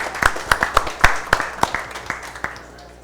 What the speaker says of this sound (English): we all give them a round of applause